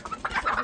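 Rescued one-year-old hens, freed by a hen rescue group, give soft overlapping clucks in a short close burst, several birds murmuring together without any voices.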